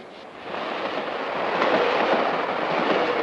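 Passenger train running on the rails in a 1950s film, bound from Chicago toward the California Zephyr connection: a steady broadband rumble and rattle of wheels and cars that swells slightly louder midway, with no talk.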